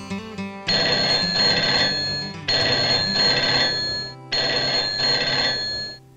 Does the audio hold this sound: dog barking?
no